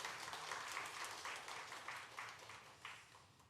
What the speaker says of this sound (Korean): 기도를 너무 잘해서 박수를 치신 것 같은데요.